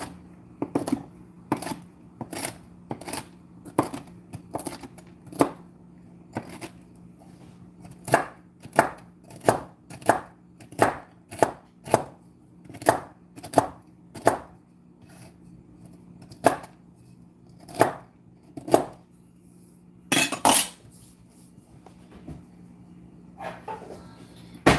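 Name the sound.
chopping pecans on a board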